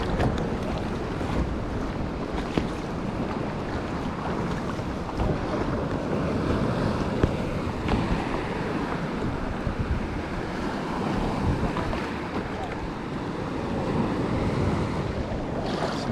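Sea waves and wind wash steadily around a kayak being paddled near Donut Island off Whangamata, a broad continuous rush with gusty wind buffeting the microphone and no voices.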